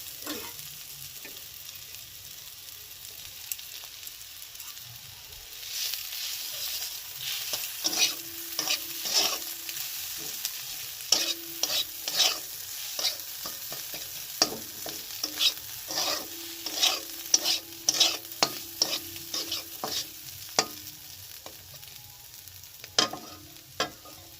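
Egg added to boiled rice is stirred and fried in a pan, giving a soft continuous sizzle with a run of quick scraping stir strokes and utensil taps that grows busier midway.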